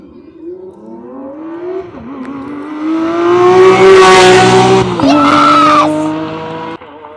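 A Lamborghini Aventador SVJ with a naturally aspirated V12 launches down a drag strip, its engine note climbing through loud, howling gears before fading into the distance.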